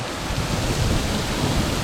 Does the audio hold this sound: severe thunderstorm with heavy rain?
yes